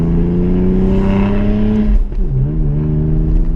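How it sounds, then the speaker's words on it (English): A 2015 Ford Mustang V6 with an upgraded exhaust accelerates hard in a loud, steady engine drone, its pitch rising, briefly dipping near the two-second mark as it shifts, then climbing again from close range without talk. "Oh, I love that exhaust."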